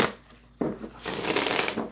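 A smaller Marseille-size tarot deck being shuffled by hand, with a soft tap, then a brisk, continuous riffling flutter of cards that runs for over a second, close and clear with no talking.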